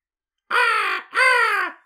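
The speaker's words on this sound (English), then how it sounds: "Crow sound." A crow in the 1991 film Hudson Hawk gives two loud, harsh caws in quick succession, each drawn out for about half a second, with no other sound around them.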